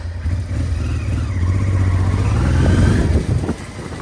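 A Honda Transalp motorcycle engine idles with a low steady drone, then revs up and pulls away, with rising rumble and some road noise, no talk over it.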